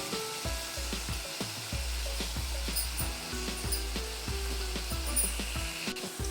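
Bottle gourd gravy with a spoonful of tomato ketchup frying and being stirred in a pan, a steady soft sizzle punctuated by repeated sharp spoon scrapes and clacks against the pan.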